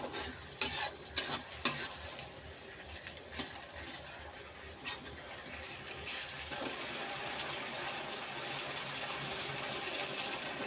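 A spice mixture is stirred in a pan, with a few sharp scraping knocks of a utensil early on, then a soft continuous sizzling hiss.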